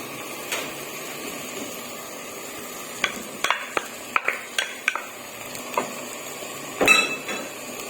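Crushed garlic and ginger being stirred and fried with potatoes and minced meat in a pan, a soft steady sizzle broken by scattered scraping and clinking utensil knocks, close and moderately quiet.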